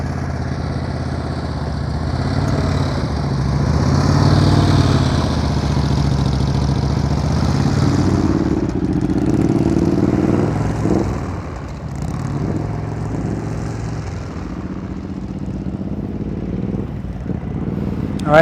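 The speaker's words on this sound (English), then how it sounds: "All right, at least now I hear his throttle's a little higher." Motorcycle engine during slow-speed riding practice, a steady close low drone with the throttle held slightly raised, swelling and easing a little as the bike maneuvers.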